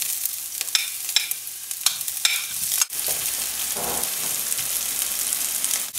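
Onion sizzles in hot sesame oil in a pan, a steady crackling fry with a few stirring scrapes early on, close by and alone without voices.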